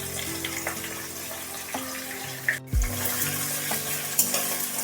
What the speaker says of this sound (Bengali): পেঁয়াজটা ভালোভাবে তেলের সাথে ভাজতে হবে।